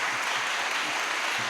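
Enthusiastic audience clapping at a Tamil debate-forum event in Madurai, a dense continuous wash of many hands, steady and fairly close, with no talking over it.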